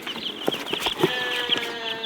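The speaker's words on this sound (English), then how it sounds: "Don't let the sheep eat your chicks, and watch the feed, son." Farm animals including sheep and young chicks, heard as a close mix of short bleats and high chirping calls overlapping in quick succession, fairly loud with no talk.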